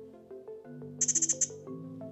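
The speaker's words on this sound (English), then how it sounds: "Little bird, that little insect chirping" A quick run of six high, bright insect chirps sounds over a soft melodic tone, thin and small, played through Nothing Ear (Open) earbuds.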